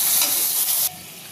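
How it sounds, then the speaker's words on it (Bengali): Spices hit hot oil for a fish and cauliflower curry. They give a loud, bright sizzle that cuts off sharply just under a second in, leaving a quieter steady hiss, with no speech. "এখন দিয়ে দিলাম মশলা।"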